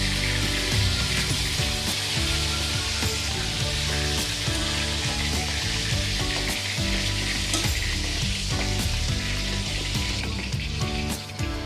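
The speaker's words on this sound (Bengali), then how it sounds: "দেখুন খুব ফুটছে মাছগুলো" Pieces of Ari fish fry vigorously in hot oil, a dense, continuous sizzle and crackle with occasional stirring clinks, loud and close, no voices.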